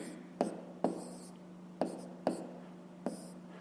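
A pen writing a fraction by hand on paper during a 5th-grade maths exercise, heard as five sharp, close taps or strokes spaced through a quiet stretch over a steady low hum.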